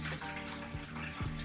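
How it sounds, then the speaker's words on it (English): Water poured from a cup into the filter of a 30-gallon freshwater fish tank gives a close, continuous splashing trickle with a few gurgling surges, heard alone. "I'm just gonna take this cup here, and I just have to pour this water into the filter"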